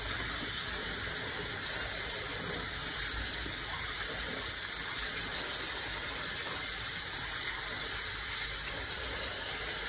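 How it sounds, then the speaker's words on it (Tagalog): Water gushes steadily from a tap while fresh fish are rinsed and washed, a dense continuous splashing rush close by with no break. "Tapos na maghugas na lang tayo ng isda."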